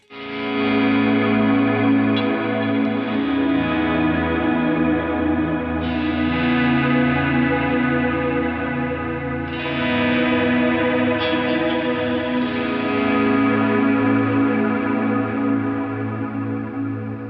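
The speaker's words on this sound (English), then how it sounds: "go to a big swirly reverb sound," Electric guitar played through big swirly reverb and modulation pedals, sustained chords washing into long shimmering tails, loud and continuous, with a few new strums layering in alone without any talk.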